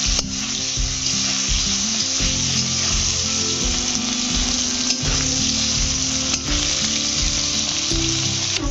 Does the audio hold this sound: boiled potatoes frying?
yes